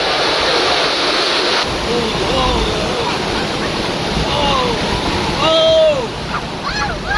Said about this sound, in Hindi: छोटा वाटरफॉल।